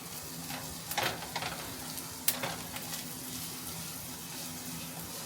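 Al dente rice noodles for pad thai cook in a hot pan, giving a soft steady sizzle with a few sharper clicks and scrapes as they are stirred, close and fairly quiet with no talking.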